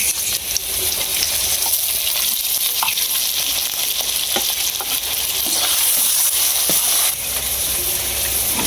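Onion, garlic and ginger paste fry with turmeric, salt and chili powder in a pan, producing a loud, steady, close sizzle with faint scraping from stirring throughout.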